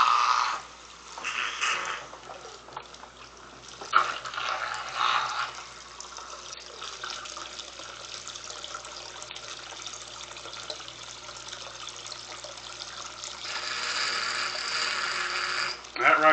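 Liquid pours steadily into a Vevor still being filled for a strawberry moonshine run, a soft continuous trickling and splashing that runs throughout at a low, even level.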